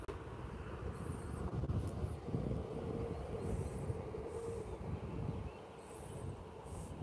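A train rumbles past steadily with dense low-end noise and faint high-pitched squeals on top, no voices present.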